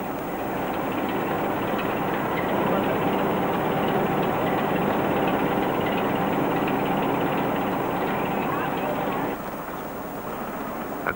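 A 1970s train on the Kyle line to Skye in the Scottish Highlands runs steadily and loudly throughout, with a dense, continuous rolling rumble that eases slightly near the end.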